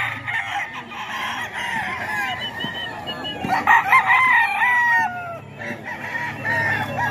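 Repeated crowing from gamecock roosters in Tondo, several birds calling over one another at close range, the crows bunching more densely midway, with steady clucking and faint crowd noise beneath.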